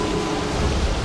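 Stormy lightning effect from the Hagara encounter in World of Warcraft's Dragon Soul raid on heroic mode, a dense, continuous wash of rain-like crackle and low thunderous rumble filling the whole moment at steady loudness.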